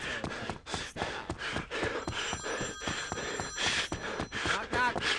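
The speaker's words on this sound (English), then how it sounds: "this is such a long ringtone" A long, repeating phone ringtone in the Paper Mario video game carries on for several seconds with a steady pulsing rhythm, while a player gasps and sighs over it.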